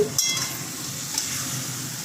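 Hilsa fish pieces coated in spices fry in a pan, a continuous soft sizzle with a brief stir or clatter near the start, heard close and alone.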